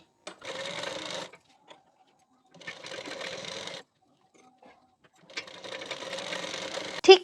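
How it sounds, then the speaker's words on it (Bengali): Sewing machine stitching a strip along a boat-neck blouse neckline, three separate bursts of fast close whirring with short quiet pauses between, the last burst ending in a sharp click. "পট্টির কানা বরাবর করে একটি চাপ সেলাই দিয়ে নিতে হবে"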